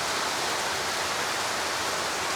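Steady rain pours down at a small rural mini farm during the rainy season, a dense, even hiss that fills the scene without pause and nothing else heard over it.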